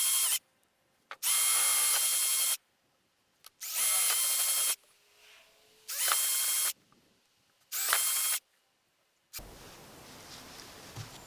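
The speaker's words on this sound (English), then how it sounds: "now we start the painstaking process of drilling all the holes all the way around" A power drill boring holes around a homemade Pac-Man Santa holiday lawn ornament, four loud close bursts of high whining drilling, each a second or so long, separated by quiet pauses, then low steady background hiss.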